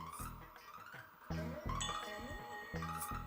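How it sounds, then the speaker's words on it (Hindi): A temple bell rings in several bright, clanging strikes, each with a ringing decay. The strikes come in an uneven rhythm over a busy, tonal background. "पुत्र ये घंटी पहले नहीं बजा सकती थी?"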